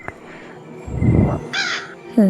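A crow caws a couple of times in the video game Granny 3, harsh and close, with a short burst of low noise between the calls.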